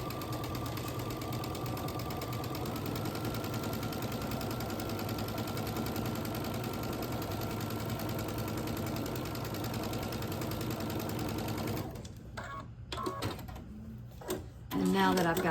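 A sewing machine runs steadily, close by, stitching jelly roll quilt block seams, then stops abruptly near the end, leaving short bursts of a voice talking.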